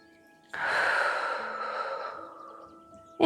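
A single long, audible exhale during a seated chair yoga neck stretch, a breathy rush that fades over a few seconds, with a faint background tone and no speech.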